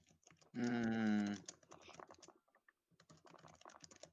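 Rapid typing on a computer keyboard clatters in quick, irregular bursts of clicks, fairly soft, after a short loud tonal sound at the start.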